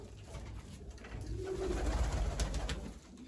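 A pigeon cooing nearby, one soft throaty coo rising and falling over a low background hum.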